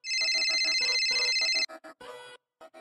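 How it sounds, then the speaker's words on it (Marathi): A telephone ringtone plays loudly and steadily as a call is placed in a Marathi TV serial scene, a bright repeating electronic melody that then breaks into short chopped bursts separated by brief gaps. "मला शकू मावशींना फोन करू दे"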